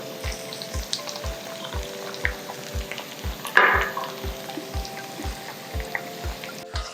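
Potatoes fry in a pan with poppy seed paste and a little water for aloo posto, giving a soft, steady sizzle with gentle bubbling and a faint rhythmic ticking underneath. One louder stir comes near the middle.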